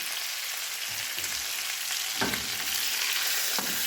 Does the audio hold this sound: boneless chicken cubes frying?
yes